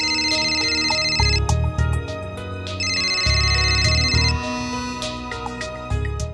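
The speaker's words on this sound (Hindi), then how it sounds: "फिर से सुंदर जी का फोन" A mobile phone ringtone plays in a Hindi comedy skit, a bright repeating electronic melody in looping phrases with deeper accompanying tones, loud and close with no talking over it.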